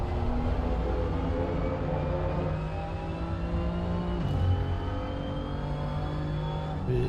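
BMW M2 and Porsche 935 race cars in a multiclass race at Monza in a racing video game, with a steady loud engine drone and rising gear-pull tones running throughout, continuous and close.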